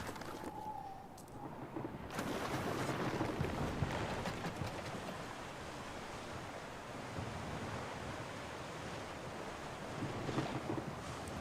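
A small fleet of ships sails through waves in the video game Anno 117, with steady surf and wind noise rushing throughout, a faint tone early on, and no talking.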